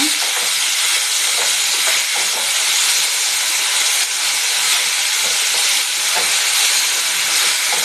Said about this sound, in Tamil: நான் வந்து இப்போ ஒரு கிலோ மீனுக்காக தான் மிளகா வறுத்துட்ருக்குறேங்க